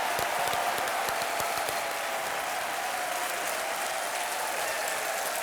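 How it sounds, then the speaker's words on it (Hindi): Dense, steady studio audience applause on a Hindi quiz show set, loud and continuous throughout with no break and no talk over it. "एक बार जोरदार तालियां हो जाए हमारे इस शानदार कार्यक्रम की"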